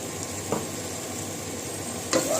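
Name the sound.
chopped fenugreek leaves added to sizzling pan for methi chicken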